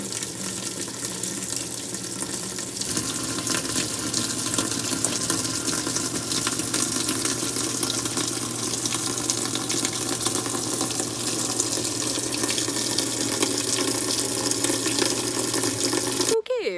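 Shoes and insoles rinsed under a running tap in a sink, a steady close rush and splash of water that holds for the whole stretch and ends with a short clatter.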